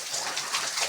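Rain falls in a brief, steady hiss of droplets that lasts only about a second, with no voices.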